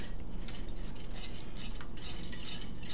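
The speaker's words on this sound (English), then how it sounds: "Keep stirring it through." A utensil stirs milk gravy in a pan with a continuous scraping swish and soft clinks against the metal, steady and close, with a faint sizzle under it and no talking.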